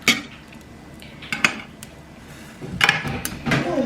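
Clanks and scrapes of a utensil against a pan, with scattered clattering taps over a low background, as a burrito is flipped nearby.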